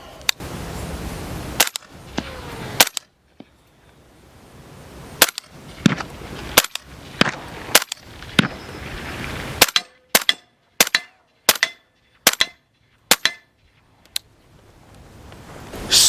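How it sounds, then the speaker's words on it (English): A 30 caliber rifle fitted with a suppressor fires a string of sharp, loud shots, irregular at first and then in a quicker, evenly spaced run, each crack followed by a brief decay with quiet gaps between. "Let's take a few more shots."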